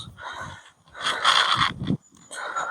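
Horses whinny and snort nearby in loud bursts, with a short pause between calls, outdoors.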